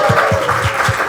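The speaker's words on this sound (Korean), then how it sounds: "다시 한번 큰 박수 부탁드리겠습니다" Short burst of audience applause following a science talk, steady clapping from a crowd with a few distinct claps standing out, close and fairly loud.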